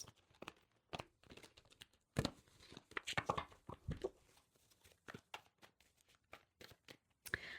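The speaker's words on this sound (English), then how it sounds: "quick shuffle for Pisces" Tarot cards are shuffled by hand: quiet, close, papery riffles and soft slaps come in quick irregular bursts, with short pauses between them.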